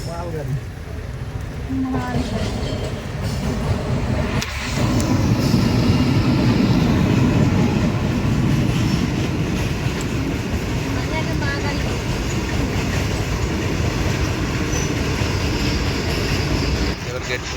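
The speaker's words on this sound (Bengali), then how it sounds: "ট্রেন চলে গেছে, এবার রেল গেটটা তুলবে।" A loud, continuous rumble of an express train rolling past a level crossing in Bolpur, steady rattling of wagons throughout, with voices faintly in the mix.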